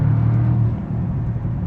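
Bentley car accelerating hard in sport mode, a loud, deep, steady engine roar heard from inside the cabin, holding strong for the whole short stretch.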